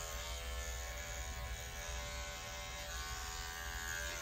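Electric clippers fitted with a 7F blade buzz at a steady, even pitch while a Shih Tzu Bichon mix is groomed, a constant close hum with no pauses or talk.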